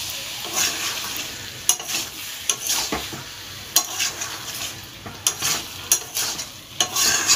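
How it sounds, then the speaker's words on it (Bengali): Jackfruit kalia curry with yogurt and a pinch of sugar being stirred in a pan: a constant low sizzle broken by repeated sharp spoon scrapes and knocks against the metal, close, with no voices. "নেড়ে নেব।"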